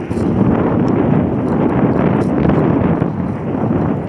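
Steady wind buffets a microphone outdoors on a mild, breezy afternoon in North Georgia, a continuous low rumble and roar that stays loud and unbroken throughout.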